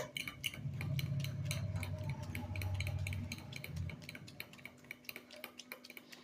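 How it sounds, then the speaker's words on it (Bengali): Rapid, rhythmic clinking of a whisk beating eggs against a bowl, close by, with a low hum beneath for the first few seconds. "ভালো করে কিন্তু ফেটিয়ে নিতে হবে"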